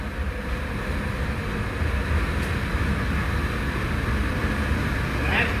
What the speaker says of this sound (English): I probably won't be able to narrate over the train.